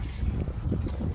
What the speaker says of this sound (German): Boah, das ist sau windig.